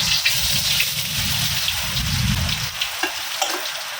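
Shallots, garlic and ginger sautéing in a hot pan, a loud crackling sizzle with stirring and scraping, easing off slightly toward the end.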